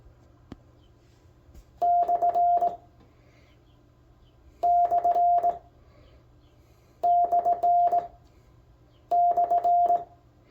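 Sidetone beeps from Morse code keyed on a GHD GD105 contactless optical bug, heard as four evenly spaced bursts of clipped dots and dashes, crisp and up close over a low steady hum.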